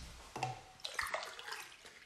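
Sparkling water poured into a glass, a short run of splashy, fizzy trickles and bright bubbly pops, close and fairly quiet, with no talk.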